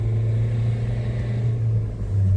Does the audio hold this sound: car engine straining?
yes